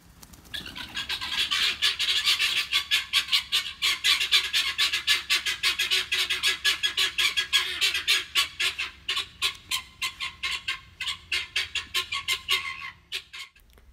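A flock of guinea fowl call nonstop at close range, a loud, rapid stream of harsh rhythmic squawks that slows into separate pulsing cries near the end.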